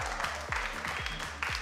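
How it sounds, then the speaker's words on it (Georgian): Audience applause at a Contender League bare-knuckle fight event: dense, continuous clapping from a crowd, steady and fairly loud throughout with no voices over it. "ტაში"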